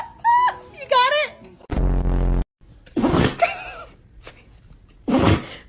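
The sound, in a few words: dog sneezing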